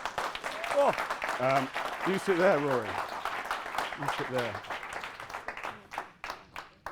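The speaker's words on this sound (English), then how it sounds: "he does need a round of applause as we welcome him to the stage" An audience applauds to welcome a guest to the stage at a live podcast recording at Ogilvy HQ. The steady clapping sits under people talking close by and thins into scattered claps toward the end.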